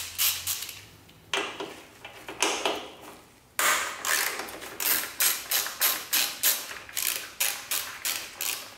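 A hand ratchet clicks rapidly and up close, loosening 12 mm exhaust bolts on a Honda CBR500R motorcycle, in several bursts of quick regular clicks separated by short pauses, with no voices.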